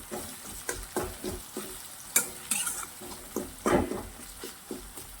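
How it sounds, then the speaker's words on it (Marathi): Sesame chutney stuffing with capsicum being sautéed in a pan, soft sizzling beneath a steady rhythm of spoon stirs and scrapes, with a few louder clanks against the pan. "आता हे पूर्ण सारण आपल्याला परतून घ्यायचं आहे"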